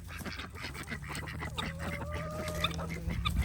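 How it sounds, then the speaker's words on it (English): Ducks and geese quack and honk in a busy, overlapping chorus at moderate distance on a farm, with a low steady hum underneath. "There's ducks over there."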